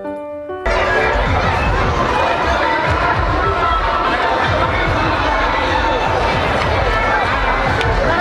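Dense, loud crowd bustle at the Tatapani hot spring fair, a continuous roar of many voices, movement and splashing that starts abruptly after a brief quieter moment and holds steady throughout.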